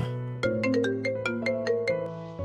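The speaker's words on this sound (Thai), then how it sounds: "มือถือก็ดัง" A mobile phone rings with a bright melodic ringtone, a quick run of repeated electronic notes played close and clear with nothing else heard.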